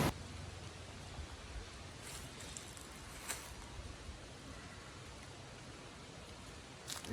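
A high river rushes over falls where salmon leap, producing a steady, broad, hissing roar that sounds distant and fairly faint, with no voices.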